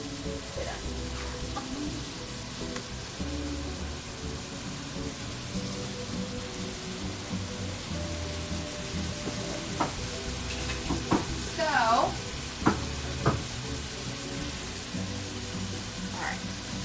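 Onion and ginger sizzle steadily in olive oil in a pan over medium-high heat, a continuous frying hiss with scattered pops and crackles, while faint stirring clatter and voices sit in the background.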